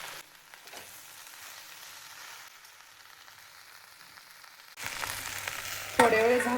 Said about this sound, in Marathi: भेंडी छान अशी परतून घ्यायची.